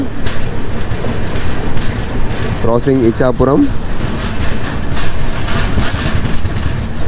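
The Falaknuma SF Express 12703 rolls along the rails with a steady rumble and wheel clatter, heard from inside the train, while a voice talks briefly partway through.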